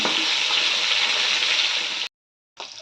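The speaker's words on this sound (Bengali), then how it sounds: "আমার প্রায় মাছ ভাজা হয়ে গেছে" Fish pieces, including fish heads, sizzle and crackle loudly in hot oil in a home kitchen pan, a dense close-up frying hiss that cuts off abruptly and then resumes.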